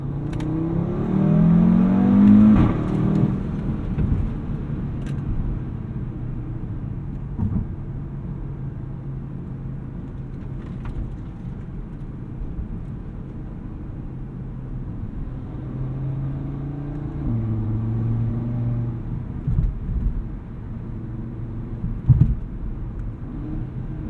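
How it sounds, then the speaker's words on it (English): A 2018 Audi RS3's engine revs up and accelerates, its exhaust rising in pitch, then settles into a steady drone with a few more revs later on. "Let's see what this exhaust gives us."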